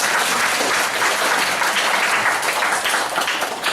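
A congregation at a church retreat applauds a drummer, a short burst of dense, loud clapping that stays steady throughout.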